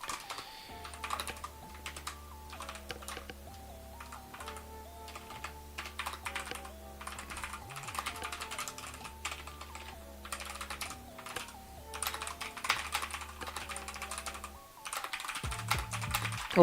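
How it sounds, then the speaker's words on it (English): Steady, rapid clacking of a mechanical computer keyboard being typed on at a desk, close and fairly quiet, with continuous uneven keystroke bursts and no voices. "If you haven't used a mechanical keyboard before, please get into it."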